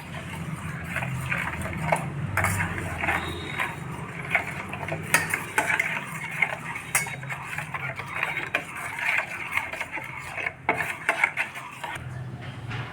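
Salt, ground mustard and green chilli paste get mixed together in a bowl, heard as busy scraping and clinking of a utensil against the dish in uneven close-up strokes.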